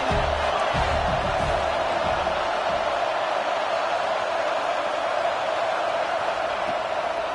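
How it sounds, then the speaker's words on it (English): A stadium crowd at a USC versus Oregon football game roars on third down, a loud, dense, sustained wall of cheering that holds steady with no break. "Decibels rising as the crowd gets behind this defense on 3rd down."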